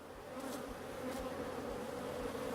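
Honeybees buzz inside a hive box, a steady, faint, close droning hum that holds evenly with small swells and has no voices over it.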